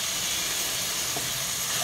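Fish sizzles and hisses steadily in a hot pan after chopped tomatoes and two green chillies go in, for a lemon prawn soup; a continuous close frying crackle with no talk.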